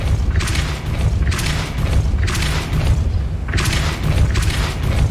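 The Depulso force-push spell is cast repeatedly in the Hogwarts Legacy video game, sounding as a series of loud, deep booming whooshes in a steady rhythm about once per second.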